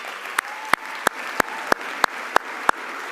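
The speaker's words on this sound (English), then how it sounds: "let's give Dr. Hampton a tremendous applause." Sparse, evenly spaced single claps ring out about three times a second over a low room murmur at a university graduation ceremony, each one sharp and distinct rather than blended into a crowd.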